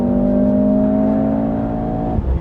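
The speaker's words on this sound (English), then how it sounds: "The exhaust gets a little louder." A 2024 Mercedes-AMG GLC 43 Coupe in race mode gives a steady, loud exhaust drone held at constant revs from inside the cabin, then drops off abruptly near the end.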